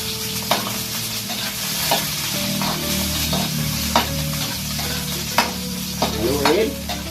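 Vegetables with onion and garlic sizzle loudly in oil as a spatula scrapes and knocks the pan in a regular rhythm, close up, with a steady low hum beneath.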